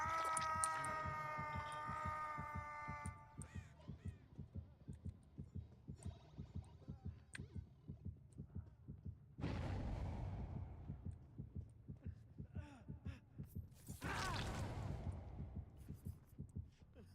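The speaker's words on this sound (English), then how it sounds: "I can hear his heartbeat." Killer's heartbeat in the horror game Dead by Daylight, a steady, pulsing low thump that runs throughout under music and game effects, with bursts of other in-game noise.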